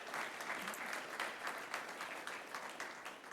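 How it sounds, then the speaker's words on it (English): A church congregation claps after a baptism, quiet and somewhat distant, with individual hand claps standing out from a soft, steady patter of applause. "let's give God a round of applause again for the baptism"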